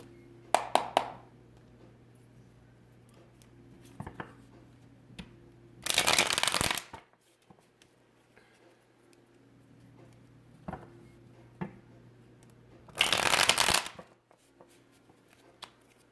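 Two short bursts of tarot cards being shuffled, crisp riffling sounds up close, separated by quiet stretches with light handling noises.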